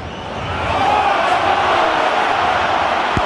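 A rugby stadium crowd at an autumn international between New Zealand and Ireland gives a loud, sustained roar that swells after the first half-second and holds steady, a dense wash of many voices.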